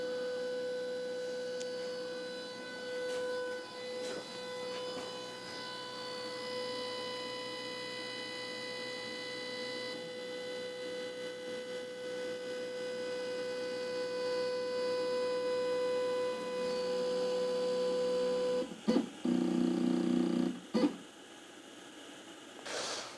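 An X-Carve 750 mm CNC machine runs its homing sequence, its stepper motors giving steady tonal whines that shift pitch as each axis moves. The sound stays fairly close and ends with a few brief louder bursts.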